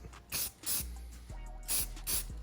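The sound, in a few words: spray can spraying valve cover bolts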